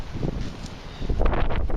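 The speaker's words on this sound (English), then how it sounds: "It's so windy out here." Wind gusts buffet the microphone in uneven low rumbles at an old farming site, growing stronger toward the end, with no voices heard.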